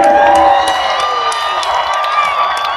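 Stadium crowd at a Monster Jam truck event at Gillette Stadium, Foxboro, cheering and whooping loudly, a dense sustained roar that eases slightly while staying energetic throughout.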